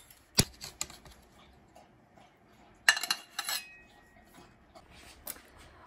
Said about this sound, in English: I want you to listen as he cuts the pizza. That is a crispy crust.